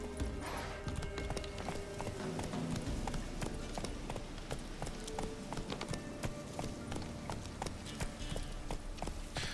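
Hoofbeats of Roach galloping in The Witcher 3, a steady rapid clip-clop rhythm that runs throughout over a busy game backdrop, loud and close.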